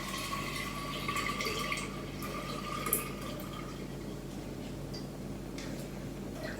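Young grape wine, machar, poured from a container into a glass jar, a soft steady trickle of liquid running under faint room noise, with one brief clink partway through.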